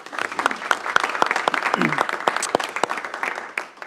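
Audience applause for two teacher nominees at a school board meeting, a moderate crowd clapping with some distinct individual claps and faint voices mixed in, tapering off at the end.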